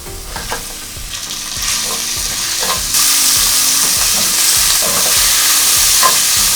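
Minced meat sizzling and frying in a pot with garlic for a one-pot pasta, a steady loud crackle broken by regular stirring scrapes, the sizzle growing louder partway through.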